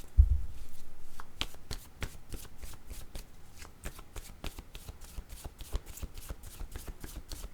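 Oracle cards are shuffled by hand in a long run of quick, crisp riffling slaps, close and fairly quiet, with no talking.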